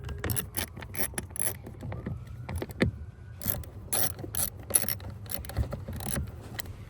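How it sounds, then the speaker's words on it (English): Screws go back into a blower motor on a 2005–2015 Toyota Tacoma with a run of small metallic clicks and ratcheting turns. The sounds are close and moderately quiet, with brief pauses between them. "I reinstalled the 3 screws."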